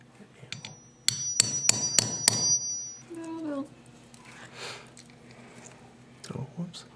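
A hammer taps a rivet into a leather belt, giving several sharp ringing metallic strikes in quick succession, followed by quieter handling noises and a brief voice.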